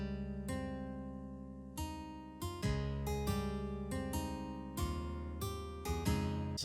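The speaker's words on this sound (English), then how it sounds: "It's just like a basic kind of nylon guitar from Triton." A basic nylon-string guitar patch from a Triton synth in an Asian rock beat, playing a layered run of plucked chords and notes with crisp attacks and ringing sustain, alone and fairly quiet.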